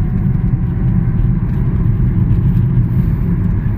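A first-generation MG ZS EV electric car cruises along the road, giving a steady, close low rumble of tyre and road noise with no engine note and no speech.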